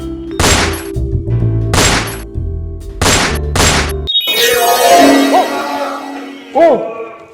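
A toy gun fires four sharp, loud bangs in quick, uneven succession, then ringing tones and other sounds follow while people talk.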